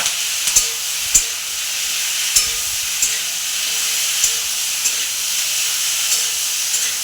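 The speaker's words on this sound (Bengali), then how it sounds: "এটা একটু ভেজে দিচ্ছি, দিয়ে আমি সর্ষে বাটা দিয়ে দেবো" Mustard paste fries in hot oil in a home kitchen, giving a loud, steady sizzling hiss with occasional sharp pops and spatters scattered across the clip and no talking.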